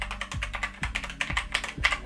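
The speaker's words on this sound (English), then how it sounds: "I've never had a mechanical keyboard before." Keys clicking on a heavy metal-bodied mechanical keyboard, a quick close run of crisp clacks with low thocks under them, heard alone without speech.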